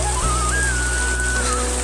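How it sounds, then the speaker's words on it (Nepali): Heavy rain pours down at a bus park in Kathmandu as a steady, dense hiss, with a faint thin whistling tone drifting over it. "यो गरी पानी पर्यो बस पार्कमा अहिलेको अहिले है"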